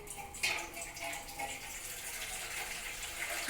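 Plain water pours into a rice pot in a steady, soft splashing stream, faint and continuous throughout.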